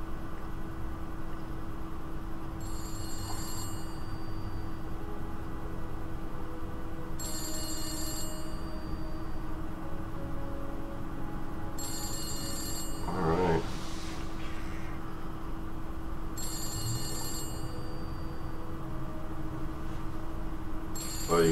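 A telephone rings inside the horror video game The Beast Inside, four evenly spaced bell-like trills repeating every few seconds over a low, steady ambient hum, with a brief rustling noise in the middle.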